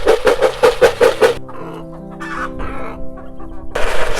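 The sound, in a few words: chickens clucking for food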